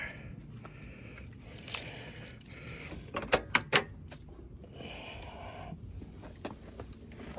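Car keys jangle and clink near a 1966 Ford Country Sedan wagon being readied to start after a starter solenoid replacement, with a cluster of sharp metallic rattles in the middle over steady background noise.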